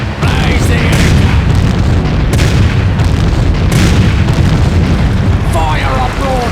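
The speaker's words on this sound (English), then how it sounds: "Fire a broadside!" Ship cannons fire broadsides in a video game, a dense run of deep booms and blasts, loud and continuous with crackling bursts, while shouted voices carry over the din.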